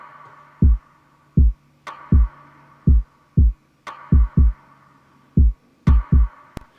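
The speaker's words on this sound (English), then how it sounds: "It was just a very reverb rim that I put in there, and then just a kick." Sparse drum pattern: deep kick thumps repeat in a steady groove, punctuated every two seconds by a sharp rim hit with a long washy reverb tail.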